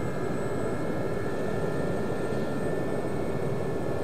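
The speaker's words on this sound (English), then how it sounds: "I suddenly heard the engine lose power" A Gazelle helicopter's engine in a flight simulator game roars steadily and loudly, a dense, continuous turbine and rotor drone with a high whine, with no clear drop in power across the stretch.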